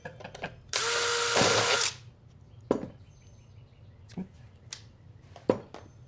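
A power drill whirs loudly for about a second, followed by several sharp knocks and clicks of tools in a quiet room.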